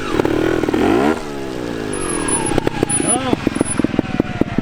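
A Vertigo Nitro trial motorcycle engine revs up and down, then settles into a rapid, pulsing idle with sharp throttle blips, heard close while people talk in French over it.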